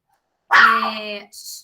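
A small female dog lets out one short, close bark that trails into a whine, followed by a brief high yip, with silence around it.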